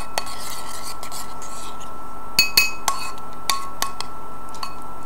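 Honey and blueberries stirred together in a glass bowl for a face mask, heard as a soft continuous rubbing hiss with a handful of sharp clinks as the utensil taps the bowl, close and fairly quiet.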